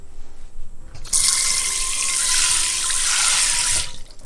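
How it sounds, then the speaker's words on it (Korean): Vinegar water is poured down a sink drain in one steady rush lasting about three seconds, a close, bright splashing gush that starts abruptly and tails off, with quiet room sound before and after. "그런 다음 이 물을 버려주고요. 이렇게 하수구에다가 버려주게 되면 하수구 또 청소가 되기 때문에 더 좋죠."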